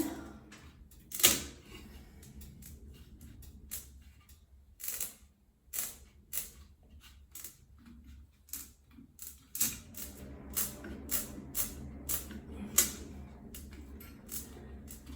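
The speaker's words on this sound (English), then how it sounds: "you can hear the Velcro clicking together" Velcro command strips being pressed together to mount an over-the-door towel rack on a wall, a series of sharp close clicks and snaps at irregular intervals with quiet gaps between.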